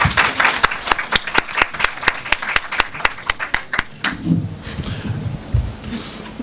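A few people clap at a literary festival slam poetry session, sharp, evenly spaced claps for about four seconds, then fading into low room murmur.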